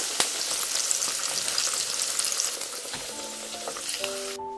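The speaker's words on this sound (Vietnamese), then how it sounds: "Đợi dầu nóng thì mình cho thịt vào chiên." Pork belly frying in hot oil gives a loud, steady, close sizzle throughout. Faint tonal music enters near the end.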